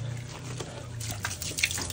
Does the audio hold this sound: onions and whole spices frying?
no